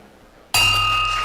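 A hand bell rung once at an Oakland Rotary club meeting, one bright sudden strike with a long sustained ringing tone that carries on to the end.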